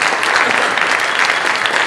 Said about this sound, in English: a round of applause for the lady who did it all